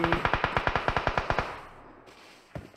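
Rapid volley of about twelve evenly spaced M24 rifle gunshots in a battle royale video game, loud and sharp with short echoing tails, followed by a quieter lull and one more muffled shot near the end.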